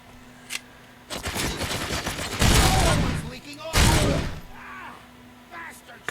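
The player's powerful gun firing in a hard rock style video game, dense loud volleys and sharp blasts arriving in bursts after a brief click, with short quiet gaps between them.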